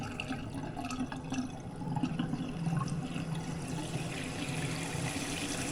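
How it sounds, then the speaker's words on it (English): Water rushing back through household plumbing after a smart shutoff valve reopens, a steady broadband flow and trickle that swells slightly midway and continues throughout, with no talking. "And now we should see the water flowing back up again."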